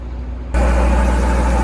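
Engine of a small JCB digger starting up loudly after a quieter rumble, then running at a steady, close, low throbbing idle with no talk.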